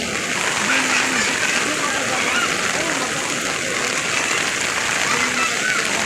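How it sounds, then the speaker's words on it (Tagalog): Heavy rain pours onto a flooded street near Balintawak market and LRT station in the Philippines, a dense continuous hiss of drops splashing on standing water, with faint voices in the background. "Patuloy pa rin na paglagapak ng ulan."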